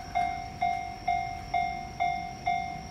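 The warning bell at the Fushimi Inari railway crossing in Japan dings in a steady, evenly spaced rhythm, loud and close, about two strikes per second, with no rumble of a train evident.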